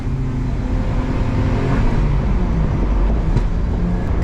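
A Porsche with an LS engine swap accelerates hard, a loud, steady engine roar with a low rumble building throughout, no talk over it.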